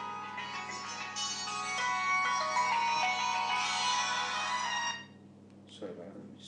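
A mobile phone ringtone plays a bright, sustained melodic tone for about five seconds, fairly loud in an indoor session room, then cuts off, followed by a faint brief rustle.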